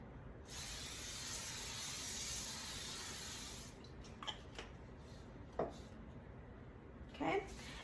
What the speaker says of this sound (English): spray my pan a little bit